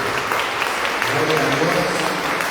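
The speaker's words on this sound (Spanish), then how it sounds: "lo recibimos con un fuerte aplauso" Church congregation applauding to welcome a pastor, an even, moderately loud spread of clapping running throughout with some murmured voices mixed in.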